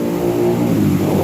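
Toyota FT86 2.0 automatic coupe from 2012 revving through a twin left-and-right HKS exhaust, a steady, loud, close engine drone that builds slightly in intensity throughout.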